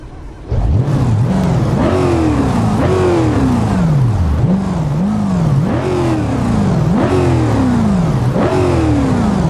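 In the BeamNG driving game, a truck engine fitted with new mufflers revs repeatedly in loud rising and falling bursts, a rhythmic series of throttle blips with a gruff exhaust tone, with no talking.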